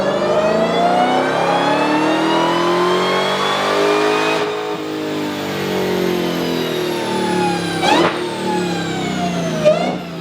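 An AWD Honda Civic with a roll cage idles and revs close by in a steady mid-pitched engine note, with sharp throttle blips that rise and fall near the end.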